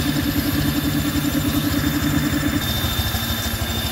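A Honda Vario 125 scooter engine idles steadily nearby, a low even putter with a faint background hum.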